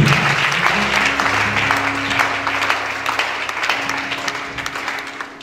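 A church congregation claps and cheers in praise, dense sustained applause with a sung or held tone running beneath it, loud and steady throughout.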